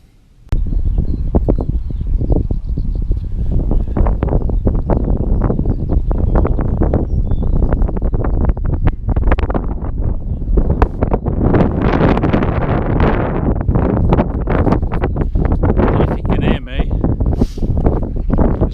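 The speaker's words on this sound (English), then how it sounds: "Very windy." Strong wind buffeting a microphone outdoors on a hillside walk, a loud continuous roar with rumbling gusts and rustling that starts abruptly and stays heavy to the end.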